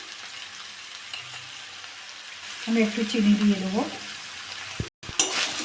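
Potato, carrot, onion and beans stir-fry in a pan with a soft, continuous sizzle and light scraping, while a person speaks briefly partway through.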